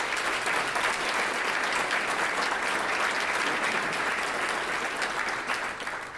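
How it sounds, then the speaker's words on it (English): A room full of guests at an annual business appreciation breakfast gives sustained applause, steady and dense for the whole stretch, with no voices rising above the clapping. "So let's give her one more round of applause."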